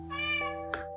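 A single drawn-out cat meow, clear and close, rising then fading within about a second.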